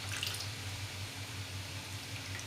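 Rice and cumin greens get washed in water, heard as a faint, steady wash of running, splashing water close by with no talk.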